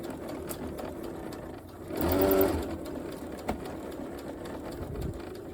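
Sewing machine stitching a gusset seam, a steady whirring burst of about half a second near the middle, with quieter handling and shuffling sounds before and after and no talk.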